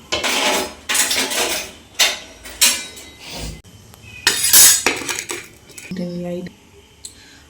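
A wok is set on a kitchen stove while pots and metal utensils clink and clatter in several sharp, separate knocks, then a brief ringing tone.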